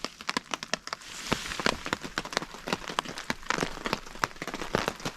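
Steady rain patters on a hard surface during a thunderstorm in a forest, with sharp, irregular drips and taps scattered throughout at close range.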